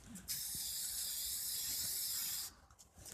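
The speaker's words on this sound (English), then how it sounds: "Take your spray paint, get it 4 ways." A steady hiss of spray paint from an aerosol can onto a spinning wheel rim, lasting about two seconds, close and moderately loud, then stopping abruptly.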